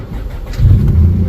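A Nissan Altima coupe's 3.5 V6, fed from a jump box, fires up and settles into a loud, close, rumbling idle with no voices over it.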